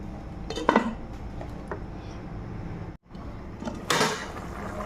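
Metal lid set onto a pot of potato and soybean curry, with a couple of clanks and a scrape of cookware against the pan, close and clear over a low kitchen background.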